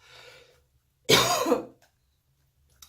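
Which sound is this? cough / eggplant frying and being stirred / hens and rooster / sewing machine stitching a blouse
cough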